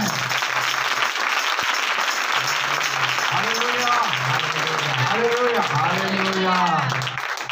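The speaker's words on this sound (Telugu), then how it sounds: "అందరూ యేసుకి చప్పట్లు కొడదాం" A church congregation claps for Jesus in a dense, steady wave of applause that runs the whole time, with voices and cheering rising over it partway through.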